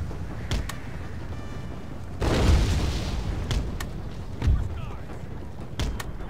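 Naval-era cannon fire in the Empire Total War video game, heard as a loud rumbling blast followed by several sharp booms at irregular intervals over constant battle noise.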